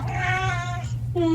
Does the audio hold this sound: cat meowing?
yes